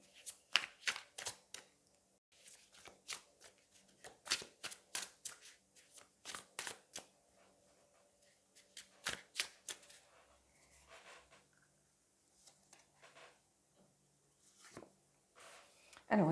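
Tarot cards being shuffled in rapid riffling bursts, crisp papery flicks close by, pausing then resuming more sparsely in a quiet room.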